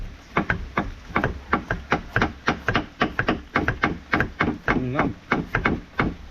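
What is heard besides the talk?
knife chopping banana blossom (heart of banana)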